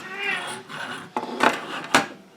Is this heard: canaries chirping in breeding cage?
no